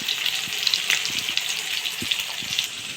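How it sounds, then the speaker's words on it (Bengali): Potato pieces frying in oil in a pan for an egg curry, giving a steady close sizzle with small crackles and pops throughout and no talking. "ডিমের ঝোল করবো বলে আলুগুলোকে এখানে ভাজতে দিয়েছি"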